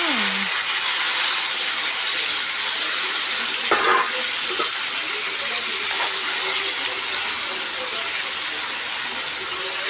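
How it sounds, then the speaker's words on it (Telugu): Egg being added to a tomato curry in a hot pan, giving a steady close frying sizzle and hiss throughout with a few brief stirring scrapes. "టమాటా కర్రీ ఇంకా ఎగ్ వేస్తున్నాను అనమాట టమాటాలో ఎగ్"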